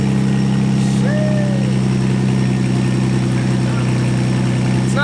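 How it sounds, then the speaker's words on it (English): A Nissan 350Z engine with open headers and the exhaust removed runs at a steady idle, giving a loud, close, continuous drone with a raspy edge that holds without revving. "Sounds aggressive. So that's open headers."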